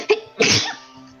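A single sharp sneeze at close range, loud and abrupt, preceded by a brief intake of breath and trailing off into quiet room tone.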